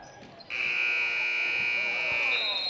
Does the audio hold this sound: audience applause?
no